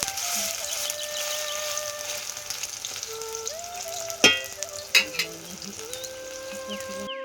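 Steady sizzling of food frying with salt and chili in a pan, a soft continuous hiss with a few sharper clatters of stirring near the end, close and moderately loud.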